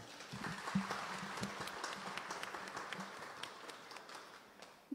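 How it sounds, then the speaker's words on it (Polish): An audience at an author meeting in Chrzanów applauds author Mariusz Szczygieł, a moderate, steady patter of many hands clapping for about five seconds, with a sharp knock at the very end. "Wielkie brawa."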